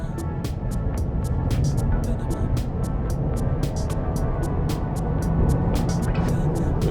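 A GAC Empow with a 1.5L turbocharged engine and 7-speed wet dual-clutch transmission accelerates hard, giving a steady, loud cabin roar of engine and road noise with a regular light ticking running through it. No one speaks.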